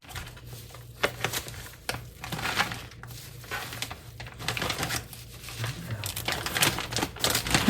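Plastic bags crinkle and rustle steadily up close as food is packed flat for the freezer, with sharper crackles at intervals and faint voices in the background.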